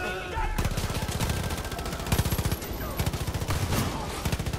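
Gunfire from the video game Far Cry 5, heard as a dense, loud stream of rapid repeated shots in several bursts with brief gaps between them, close and continuous over a few seconds.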